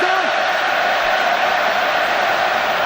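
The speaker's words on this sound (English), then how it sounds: "they've got the crowd making the noise again" Rugby stadium crowd in Cardiff during an All Blacks versus Wales match, a dense, loud, continuous roar of thousands of spectators filling the whole moment.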